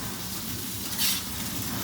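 Indian threadfin (pandugappa) fish frying in hot oil gives a steady, close sizzle with a brief louder crackling swell midway and no voices.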